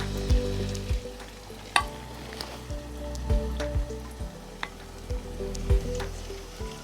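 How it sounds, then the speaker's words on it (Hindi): Noodle pakoras crackle and sizzle in hot oil, a steady frying hiss with a run of low thuds and clinks from the pan at regular intervals, no talk. "ये मैं पकौड़े ऐड कर रही हूँ।"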